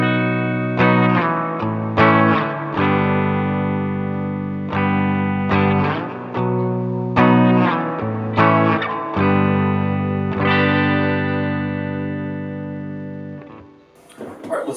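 Electric guitar plays a clean tone through a Matchless amp with the Strymon Flint on, strummed chords and picked phrases ringing out loud and sustained, then dying away near the end.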